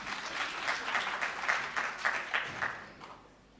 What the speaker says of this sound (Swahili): Wapi makofi ya Sam Kimani?